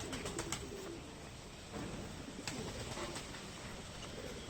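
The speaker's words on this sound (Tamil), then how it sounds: "இது மெயில் புறா." A long distance racing pigeon coos softly in a few low, repeated calls against faint background noise, with no talking.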